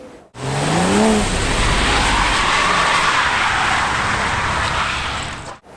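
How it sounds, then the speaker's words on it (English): A BMW M440i xDrive Coupe (G22) engine roars continuously while tires squeal and skid as the all-wheel-drive car drifts, loud and close, with a pitch that rises and falls through the slide. "my feeble attempts at drifting an all-wheel drive BMW"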